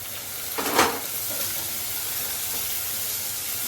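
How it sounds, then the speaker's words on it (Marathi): Onion frying in a home kitchen pan after garlic and curry leaves, giving a steady soft sizzle with a brief louder burst of hissing as it is stirred, heard alone without talk. "कांदा चांगला परतून घेते मी."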